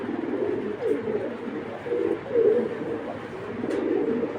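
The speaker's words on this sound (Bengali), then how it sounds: "আরে বাবার হেভি শক্তিশালী একটা কবুতর" A racing pigeon gives low, throaty coos in a few rolling bursts, close and fairly soft, with no other sound over it.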